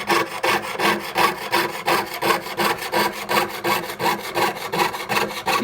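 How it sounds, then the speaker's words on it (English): A saw blade cuts excess copper sheet away from a pierced snowflake with steady, rhythmic back-and-forth strokes, about three per second. The rasping is close and clear, with no talking. "I'm just going to cut off the excess metal from this side"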